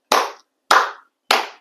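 Three sharp, loud hand claps ring out alone, evenly spaced about half a second apart, each with a short decaying tail.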